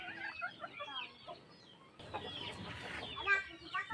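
Several chickens, some sick with swollen faces from colds, cluck and murmur nearby in a busy, continuous chatter, with a few sharper squawks near the end.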